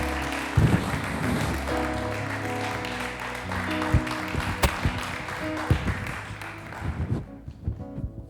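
A church congregation applauds in a dense wash of clapping over sustained music, with a few louder individual claps near the end as it fades.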